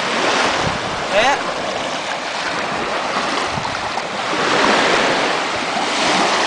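Steady ocean surf and gusting wind at Destin Beach, with continuous broadband wash that swells again near the end; a brief faint voice-like tone briefly cuts through early on.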